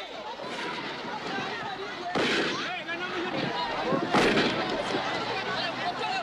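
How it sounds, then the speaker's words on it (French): Two sharp gunshot cracks ring out several seconds apart over a restless crowd murmur and voices, amid unrest in Katanga in 1962. "Des coups de feu claquent"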